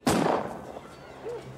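A gunshot from the 1993 film Falling Down: one sharp loud blast with a decaying boom, followed by a faint voice.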